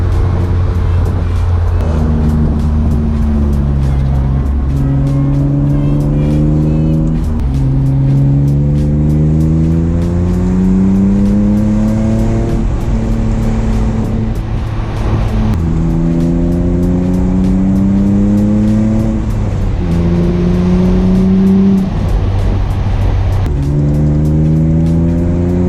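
BMW E92 M3 V8 driven hard in a street race, loud and close throughout, with repeated rising revs through the gears and brief drops at each shift, heard from inside the car.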